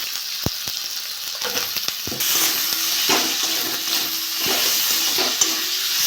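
Spice masala with chopped tomato, Kashmiri chilli and salt frying in oil for a cauliflower, potato and carrot curry: a constant close sizzle that jumps louder partway through, punctuated by scraping spatula strokes.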